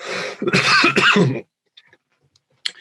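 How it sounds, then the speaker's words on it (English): A few harsh, close coughs in quick succession, like clearing the throat, followed by near silence with faint small noises. "Apologies for the cough, by the way."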